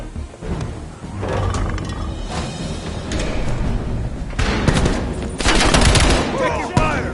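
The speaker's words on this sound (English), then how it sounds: "Taking fire!" Heavy gunfire rattles through a Call of Duty Black Ops Cold War campaign firefight, loud, dense bursts layered over a rumbling background with surges of automatic fire and a voice calling out briefly.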